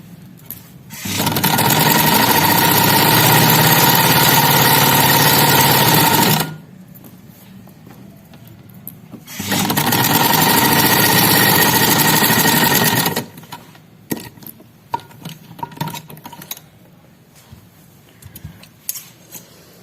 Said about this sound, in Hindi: इसको मैं उल्टी तरफ को पलट कर इस किनारे पर एक सिलाई लगाऊंगी और एक इस किनारे पर लगाऊंगी